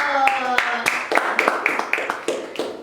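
A small audience claps along during a student podcast, with scattered distinct hand claps ringing out over a steady room hum and background chatter.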